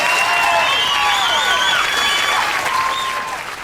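Comedy show audience applauding loudly and continuously, with cheering and whistle-like tones over the clapping, fading slightly at the end.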